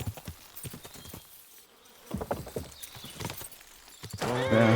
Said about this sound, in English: A horse? What's it doing here in the woods?